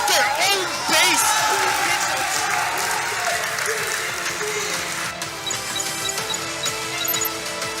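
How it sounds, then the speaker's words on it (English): A packed esports arena crowd roars, cheers and applauds loudly and continuously during an Execration versus Blacklist match, with whoops and clatter, and a caster talks over the din. "They know how to make a crowd roar."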